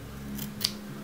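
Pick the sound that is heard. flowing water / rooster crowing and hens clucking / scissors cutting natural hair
scissors cutting natural hair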